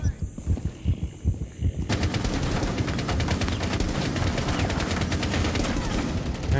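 A video game machine gun fires in a continuous rapid rattle that holds steady for several seconds after a few opening shots, loud and close, with a voice briefly present.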